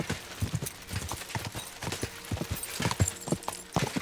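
A horse's hooves clip-clop in the Kingdom Come: Deliverance II video game, a quick, regular trotting rhythm of distinct hoof strikes at moderate volume.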